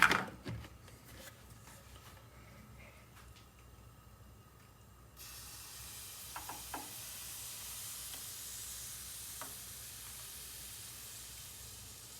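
Pancake batter sizzles in a hot pan, a faint, steady frying hiss that grows slightly louder partway through, with a few soft clicks and taps from the cook.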